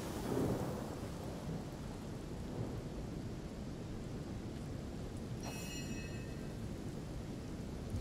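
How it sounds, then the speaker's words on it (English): A rain spell cast in the video game Divinity: Original Sin brings a steady downpour and rolling thunder, with a heavy rumble at the start and a sharp crackle near the end. "I'm probably gonna make it rain again."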